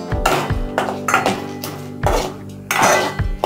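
A metal spoon stirs raw rice with ghee in a pot, scraping and knocking against the sides in repeated strokes, loud and close, with no talk.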